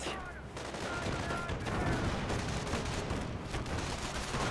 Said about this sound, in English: The sniper does get gunned down by the rifle squad.